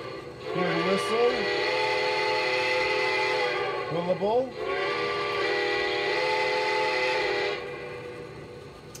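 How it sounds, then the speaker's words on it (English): A steam locomotive whistle blows two long, loud, steady blasts separated by a short break, with a voice speaking faintly at the start. "There we go. Clear whistle."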